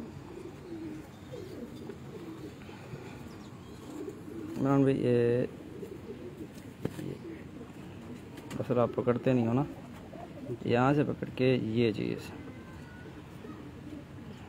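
A pigeon held on a Multan rooftop loft gives a few distinct throaty coos in clear bursts, with someone speaking nearby between and around them.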